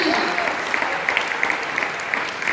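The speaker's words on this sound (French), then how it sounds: "Est-ce qu'on peut acclamer devant le Seigneur?" A church congregation at a French-language sermon breaks into brief, steady clapping that sounds close and fairly full, with faint cheering mixed in.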